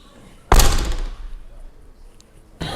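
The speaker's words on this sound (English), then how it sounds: "to close this back door, I have to come this side, pull this, and then walk backwards" The rear door of a 2025 Mercedes V-Class van slams shut with one loud, close thud that rings briefly and fades, followed by another thump at the very end.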